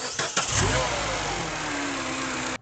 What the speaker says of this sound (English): So now I'm going to go ahead and start the car.